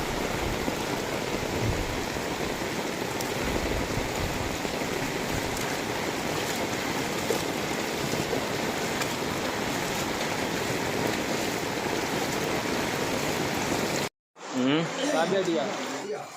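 Fast-flowing floodwater after heavy rain rushes steadily in a loud, continuous wash, breaking off abruptly near the end before a short burst of noise resumes.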